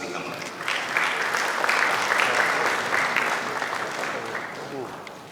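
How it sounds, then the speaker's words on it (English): Audience applause at a Ghana SMEs and young CEOs business summit as panelists walk up, a steady broadband clapping wash that swells and holds for several seconds before tapering slightly. "A round of applause as they come up."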